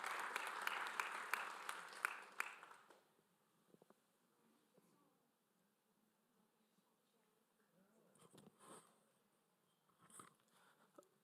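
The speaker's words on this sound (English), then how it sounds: "Clap." Brief applause from a live audience at a Cloud Native Rejekts Europe 2025 tech conference, moderately loud for the first few seconds, then fading out to a quiet room with a few faint scattered sounds.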